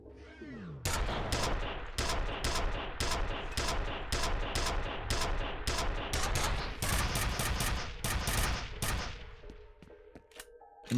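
Rapid gunfire from the shooter game F.E.A.R., a dense run of loud, evenly spaced shots lasting several seconds, then stopping abruptly, with no voices.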